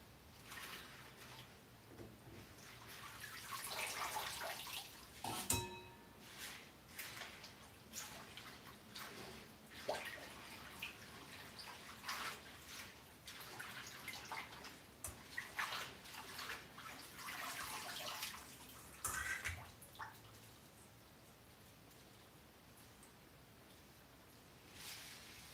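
Foraged greens are rinsed by hand in a basin of water, giving intermittent splashes, sloshing and trickling at close range with quiet pauses between movements.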